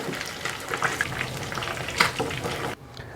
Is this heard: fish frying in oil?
yes